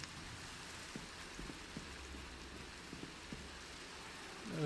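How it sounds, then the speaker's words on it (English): Steady rain patters in a video game, a constant soft hiss with scattered faint drops ticking through it, fairly quiet and without speech. "Oh, it's raining."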